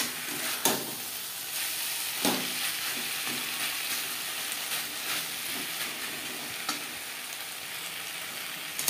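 Vegetables and spices fry for a katla fish curry, giving a steady, even hiss of sizzling close by, with occasional sharp clinks and scrapes of stirring.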